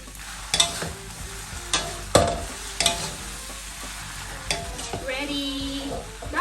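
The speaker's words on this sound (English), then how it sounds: "stir fry" Pork pad see ew noodles with kale stir-fried in a hot pan: spatula scrapes and clanks land in irregular bursts over a continuous sizzle.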